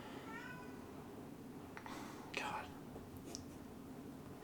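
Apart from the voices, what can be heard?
cat crying outside wanting to get inside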